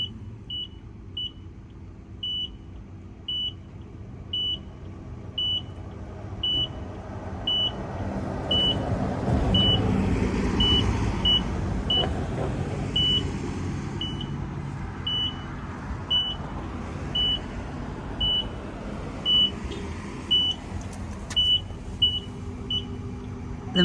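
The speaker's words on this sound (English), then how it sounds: "The pump's moving really slowly." The hydraulic pump of an auto-leveling outrigger system runs slowly, a low mechanical drone with a rhythmic pulsing, accompanied by a steady string of short high warning beeps over the whole stretch.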